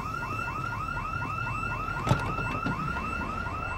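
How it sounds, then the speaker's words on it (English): A car alarm sounds in the zombie survival game Project Zomboid, with loud, steady, repeating warbling whoops that cycle rapidly without pause and a brief thump near the middle. "Get away from house and car alarms."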